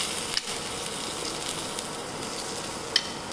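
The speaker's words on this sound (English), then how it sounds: "The eggplant is getting done. Let's add in the diced onions." Diced onions hit a hot pan where eggplant is grilling, giving a steady close hiss of sizzling with a couple of brief sharp clicks from the pan.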